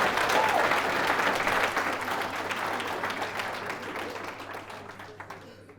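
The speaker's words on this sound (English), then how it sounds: "You've got to give me a round of applause" An audience at a leadership talk breaks into a round of applause, dense and loud at first and then gradually thinning and fading toward the end, with no one speaking.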